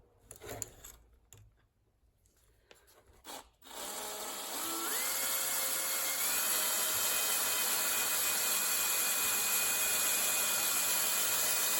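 A power drill whirs up to speed after a few quiet taps, then grinds on steadily and loudly with a rising motor whine until the end.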